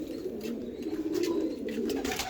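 A mother pigeon coos nearby in soft, low, rolling murmurs that continue throughout, with no one speaking.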